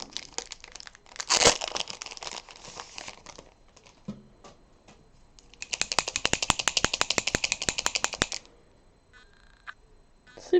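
A packaged 2021 diary is unwrapped close up: crisp plastic crinkling and tearing comes in bursts, with a sharp rip early on and a long run of rapid crackling in the middle.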